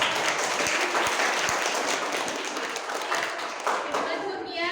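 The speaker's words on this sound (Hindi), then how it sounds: "जोरदार तालियां।" An audience claps in a steady burst of applause at a classroom-style Vedic maths demonstration, with a few sharper individual claps standing out and a voice briefly heard over it near the end.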